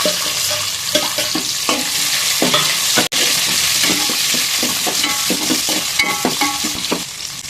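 Onion and curry leaves sizzle steadily in hot oil for methi dal, with a spoon stirring and scraping the pan in repeated strokes, close and loud, with no talking.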